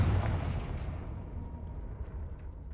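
Confringo spell explosion in Hogwarts Legacy, a single deep booming blast that decays into a low rumbling tail, heard alone.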